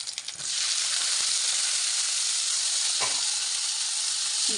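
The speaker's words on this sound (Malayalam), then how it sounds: "നമ്മൾ കഴുകി വെള്ളം തോർത്തി വെച്ചിരിക്കുന്ന ചുണ്ടയ്ക്ക ഇതിലേക്ക് ഇട്ട് കൊടുക്കാം." Washed turkey berries (chundakka) hitting a pan of hot oil with curry leaves and dried red chillies, bursting into a loud, steady, close sizzle after a brief clatter at the start, with no voices.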